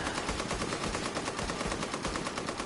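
Rapid automatic gunfire hammers continuously in a Tom Clancy video game firefight, a loud, evenly spaced stream of shots with no pauses and no voices.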